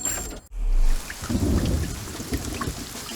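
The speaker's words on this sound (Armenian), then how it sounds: "3 օր է, այս անձրևը չի դադարում։" Cartoon rain with thunder in an animated dinosaur-truck series: a deep thunder rumble breaks out, then steady, dense rainfall keeps pouring with low rolling thunder underneath. No voices.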